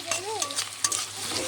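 Green chillies frying in hot oil for a prawn malaikari, a steady close sizzle throughout with a brief tonal whine from a voice or utensil early on.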